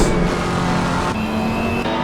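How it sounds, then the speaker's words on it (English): A pack of GT3 race cars at Imola in a sim racing game, engines droning together loudly and continuously with a steady tonal whine, a shift in pitch partway through. "Lots of cars."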